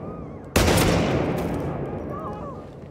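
Gunfire in the video game Hitman 3 during a New York mission: one sudden loud shot with a decaying echo tail, and a voice speaking faintly around it.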